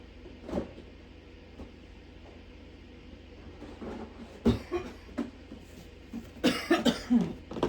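A few dry coughs and throat hacks from a woman indoors, scattered and fairly faint at first, then a louder close cluster of sharp coughs near the end.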